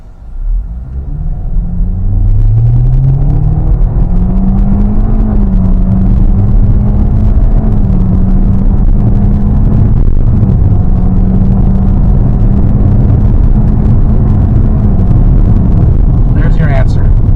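A 2024 Hyundai Kona accelerating hard, heard from inside as a loud steady rumble with a rising drone that climbs and then holds level for about fifteen seconds, with no talking over it.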